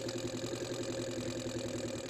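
A car engine with an electronic ignition system runs at a steady speed during an ignition timing test, a continuous even hum with a faint rhythmic pulse, close and unbroken.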